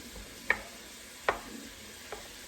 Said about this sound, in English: Now we're going to let these vegetables cook a little bit